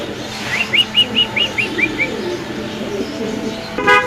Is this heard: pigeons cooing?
yes